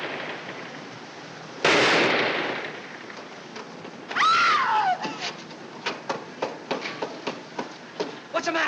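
Gunfire in a 1948 crime film scene, one loud burst followed by a sliding cry and a string of sharp, echoing cracks that repeat quickly amid shouting.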